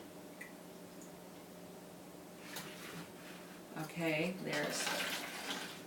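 Vinegar is poured into a measuring cup, a faint gurgling splash that swells near the end, while a person talks quietly.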